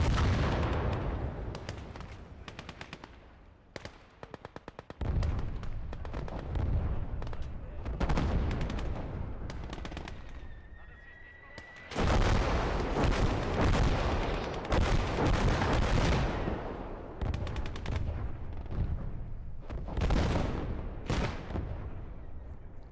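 Mortar fire in the World War II strategy game Gates of Hell during a one-on-one multiplayer match, heavy booming blasts and rumbling explosions repeating among dense gunfire, with a voice talking quietly underneath.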